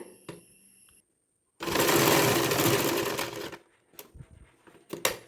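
A sewing machine runs in one steady burst of about two seconds, stitching elastic, with quiet handling clicks of fabric and machine parts before and after.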